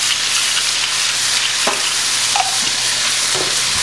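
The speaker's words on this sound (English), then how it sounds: "you want to have a fairly hot pan because you want to sear in all the sides so you don't lose a lot of the juice" Diced chicken breast searing in a hot pan, a loud, dense, continuous sizzle with a few soft stirring scrapes, close up and without any voices.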